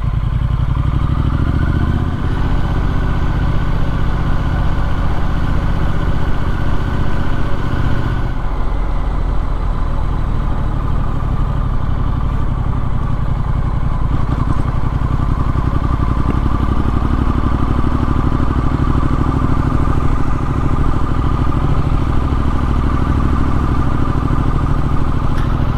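A Triumph Street Scrambler motorcycle rides through dry Kent countryside lanes, its engine a loud, steady, close drone that holds throughout, with a brief shift in tone around a third of the way in.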